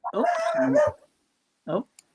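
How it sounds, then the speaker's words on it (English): A dog barks once at length and then gives a shorter second bark, close and clear over an otherwise quiet background. "Someone's dog."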